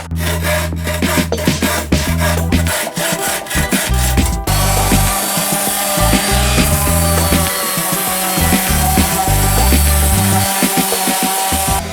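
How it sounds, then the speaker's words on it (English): Sanding a wooden box in a home workshop: a loud, continuous scratchy abrasive rubbing that runs without pause, with irregular strokes and knocks of wood and tools scattered through it and no talk. "while my dad's sanding the box"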